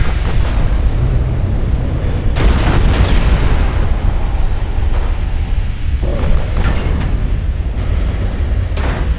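Torpedo hits explode on warships in a naval battle in Ultimate Admiral Dreadnoughts. A steady low rumble is broken by several heavy booming bursts, the loudest grouped near the start and middle.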